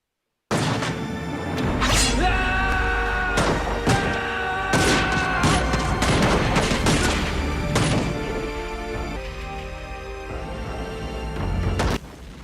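Explosions in the film The Last Samurai come as loud booms, crashes and smashing impacts, repeating irregularly over a sustained, dense score.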